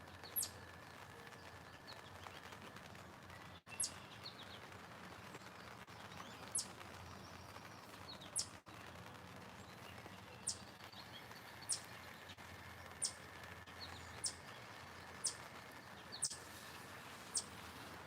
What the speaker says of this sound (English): or heard a cricket, but it wasn't a cricket. It's a bird.